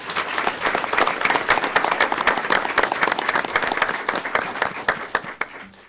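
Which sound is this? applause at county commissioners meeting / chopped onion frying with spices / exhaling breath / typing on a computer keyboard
applause at county commissioners meeting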